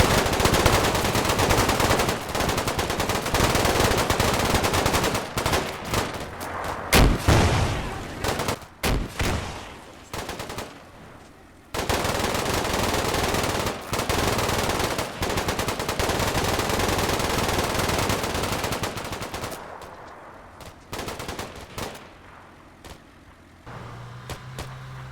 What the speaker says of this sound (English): They run in and come under heavy fire from the opposite building.